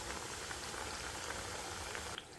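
Nippattu rice crackers deep-frying in hot oil, a dense, even bubbling and sizzling heard close and alone, steady throughout before easing slightly at the end.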